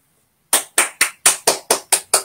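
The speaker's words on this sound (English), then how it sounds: "Big applause, big applause." Applause at an interview: eight sharp, close claps at a steady, even pace after a short silence, with no talk.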